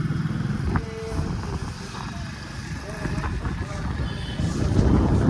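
Motorcycle riding along a road near a temple, its steady engine drone mixed with wind rumble running continuously and loud throughout, with voices talking over it.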